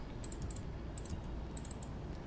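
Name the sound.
typing Control F8 on a computer keyboard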